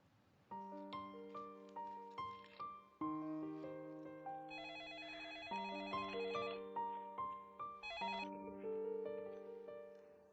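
A melodic phone ringtone plays loud and alone, a repeating electronic tune of bright stacked tones that steps through several phrases without any talking.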